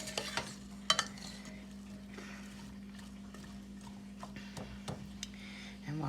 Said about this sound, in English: you can hear that cooking up